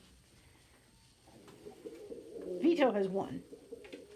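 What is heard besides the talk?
pet birds fighting in their nests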